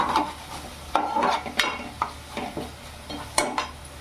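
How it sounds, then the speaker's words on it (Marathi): A spoon scrapes and taps against a pan as spices are stirred into sizzling okra masala, giving irregular clinks over a steady soft frying hiss with no talking. "व्यवस्थित आपण मिक्स करून घ्यायचं आहे"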